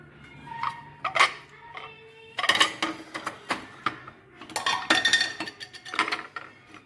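Dishes and cutlery clink in scattered bursts of light metallic and ceramic taps while broccoli almond soup with homemade cream is served, close by and irregular, with no voices.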